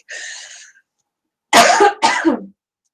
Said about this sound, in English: Just going to take a pause here for a cough and a water break.